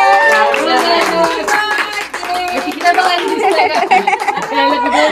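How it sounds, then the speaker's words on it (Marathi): Family members clap around a birthday cake at a home celebration, the uneven clapping mixed with lively chatter and a little laughter close by. "अरे टाळ्या तरी वाजवा, नुसतं केक खायला आले."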